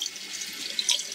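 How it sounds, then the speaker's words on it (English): A sink faucet turned on for handwashing sends out a steady, soft hiss of running water, with a few brief splashes near the end. "So I'm going to go ahead and turn on the sink."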